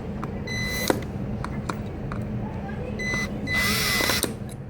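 A power drill bores screw holes in a mantle clock with two short whirring bursts and light tool clicks, heard under a quiet room background with no talk.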